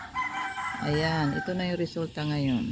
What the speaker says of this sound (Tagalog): ang sarap pakinggan, ang mga huni ng mga ibon